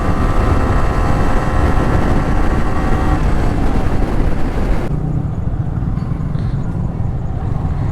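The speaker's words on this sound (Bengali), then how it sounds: "একটু পুশ করি বাইকটাকে" A motorcycle pushed hard on an open road in a group ride alongside a Royal Enfield, giving a steady, loud engine and wind roar throughout that drops slightly in tone partway through, with no talk.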